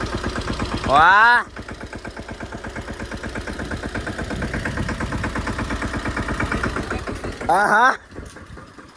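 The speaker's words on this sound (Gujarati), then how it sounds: "હા, ટ્રેક્ટર આજ હાંકવું છે." A tractor engine runs at a steady close idle, its rhythmic chugging continuous beneath people talking, with two louder bursts of voices near the start and end.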